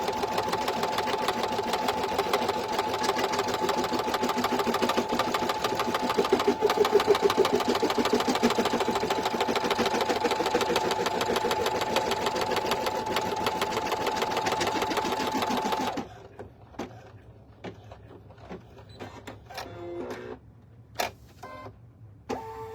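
Embroidery machine stitching a tack-down line around the stabilizer for an in-the-hoop sleep mask, a rapid steady mechanical chatter for about sixteen seconds that then stops, leaving faint clicks and handling noises.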